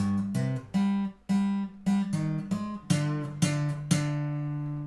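A short melodic phrase of tapped guitar notes, about ten plucks in a steady rhythm, each note ringing clearly before the next, the last one left sustaining.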